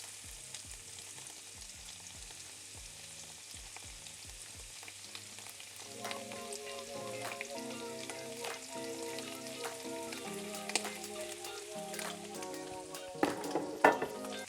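Garlic, onion and vegetables fry in hot olive oil for a pumpkin risotto, a steady close sizzle with occasional stirring clinks and scrapes that grow louder toward the end.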